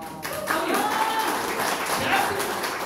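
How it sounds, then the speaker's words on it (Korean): An audience at a political lecture applauds, a steady wash of clapping throughout, fairly close and continuous with a voice mixed in. "박수 한번 쳐주세요"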